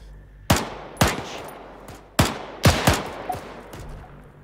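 Gunfire in the WWII-era Arma 3 multiplayer game: a string of sharp, loud single shots with short ringing tails, irregularly spaced, some close together, with no talk over them.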